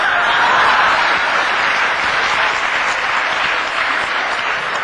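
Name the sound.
audience applause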